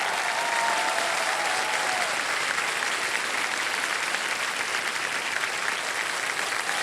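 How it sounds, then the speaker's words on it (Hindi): A studio audience on the quiz show KBC Season 17 applauds a winning contestant, loud dense continuous clapping that holds steady throughout, with no voices over it. "तो ताली बजती रहे इनके लिए।"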